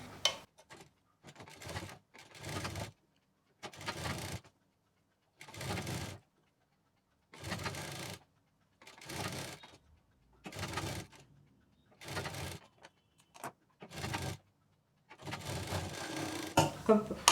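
A sewing machine stitches lace onto fabric in short bursts of mechanical whirring, roughly eight runs separated by silent pauses, with faint talking between them.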